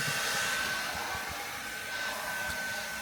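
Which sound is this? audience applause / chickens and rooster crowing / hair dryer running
hair dryer running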